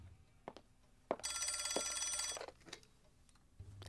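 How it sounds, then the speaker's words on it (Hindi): An old-style telephone bell rings in one sustained, rattling burst of a little over a second, loud and close in a quiet room, preceded and followed by a few faint knocks and clicks. "फोन बज रहा है।"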